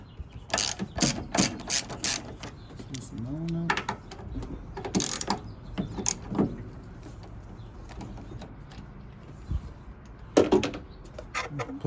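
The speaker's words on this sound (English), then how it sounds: "so we remove these 2 bolts, the brake line and this bottom one right here" A ratchet clicks in quick bursts while coilover bolts come off a Honda S2000, with short spins of the pawl, a few metallic clunks, and close workshop sound without talk.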